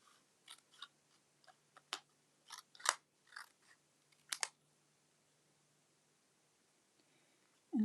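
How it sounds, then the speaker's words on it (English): Scissors snip in a quick irregular run of small, crisp, close cuts during flash tattoo work on a dahlia design, then the room falls quiet. "I'm just going to give that a little snip"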